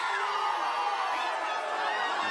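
Crowd at a New England Patriots Super Bowl LIII send-off rally, a broad continuous roar of cheering and whooping, steady and somewhat distant, with no clear speech over it.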